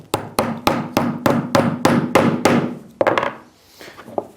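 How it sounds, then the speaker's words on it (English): A medium-range £8 hammer taps in a round cable clip: about ten crisp woody blows in a steady rhythm, close and loud, followed by a brief double knock and fainter handling noise, with no speech. "Then our medium range hammer."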